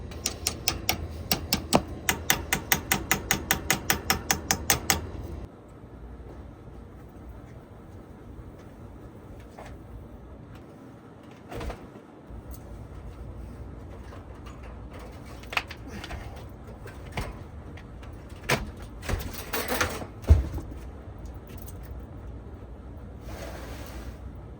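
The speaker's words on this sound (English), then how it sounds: "I like to deburr" A deburring tool scraping inside the freshly cut end of a copper refrigerant pipe during a condensing unit replacement. It opens with a fast run of rhythmic ratcheting clicks, then gives way to quieter, irregular scraping and metallic knocks.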